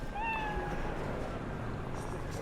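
A cat in the video game Cyberpunk 2077 gives a single clear, drawn-out meow early on, followed by a faint higher mew, over a steady low ambient hum.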